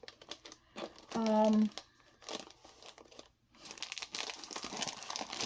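Paper envelopes being handled, a short close crinkle and rustle of large paper sheets amid quiet room noise, with soft scraping and shuffling afterward.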